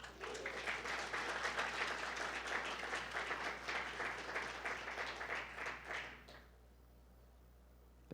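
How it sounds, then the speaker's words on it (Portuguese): A church congregation applauding during a sermon, sustained clapping from a crowd heard at moderate distance for about six seconds before cutting off to quiet room tone. "Quem está feliz aí, aplaude o Senhor Jesus."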